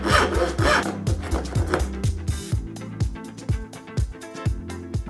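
A hand saw rips through wood while cutting shelf rebates for a cabinet, each push stroke rasping in a steady back-and-forth rhythm of roughly ten strokes, close up and clear with no talking.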